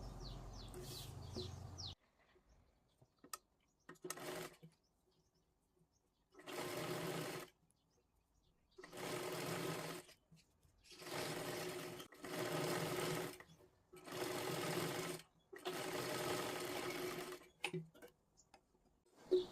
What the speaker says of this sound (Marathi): इथे पूर्ण आपल्याला शिलाई मारून घ्यायची आहे